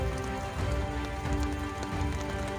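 Rain falls steadily in the Yamuna valley of Uttarakhand, a dense, even patter close by throughout, with no voices.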